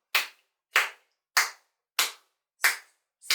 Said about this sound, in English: Chinky went to the open door and clapped his hands softly 3 times.